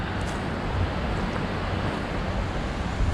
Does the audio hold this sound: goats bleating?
no